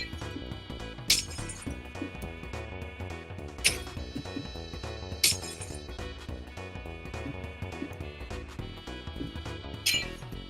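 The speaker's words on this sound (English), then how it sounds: "The breaking of the glass is just so satisfying." Blocks of glass shatter repeatedly in the Minecraft video game, each crisp breaking crash rising sharply above a dense, continuous layer of game music and ambient sound, four distinct smashes spread unevenly over the stretch.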